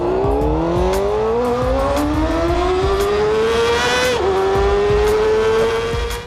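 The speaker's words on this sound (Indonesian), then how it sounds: "Apakah kamu tahu suara sepeda motor yang paling bising saat ini?" A very loud motorcycle engine revs hard up close, its droning pitch climbing steadily, dipping briefly, then climbing again over about six seconds, with nothing else heard.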